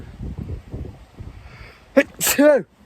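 Low murmuring talk, then a sharp, loud sneeze near the end that breaks off abruptly.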